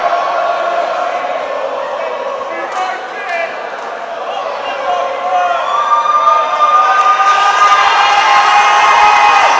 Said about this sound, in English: The crowd are ready.